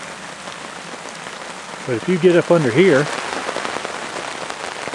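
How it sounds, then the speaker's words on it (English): Heavy rain pours steadily in a forest, a dense, loud hiss of drops on surfaces lasting throughout, with someone speaking briefly in the middle. "it's raining pretty good"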